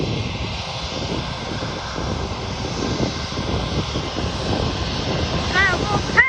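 JetBlue airliner jet engines roar steadily at night at Fort Lauderdale airport, a loud sustained rumble and whine heard from nearby on the ground, with people talking quietly over it.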